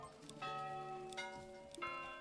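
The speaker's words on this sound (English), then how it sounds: "We can make a bell." A church bell in the medieval building game Manor Lords is struck three times. Each faint, distant toll rings on with a long, humming sustain.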